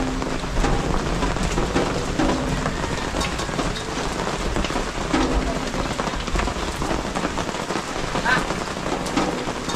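Heavy rain pours down in a loud, dense, unbroken roar of drops hitting surfaces nearby, with a faint low rumble underneath and possible voices buried in the noise.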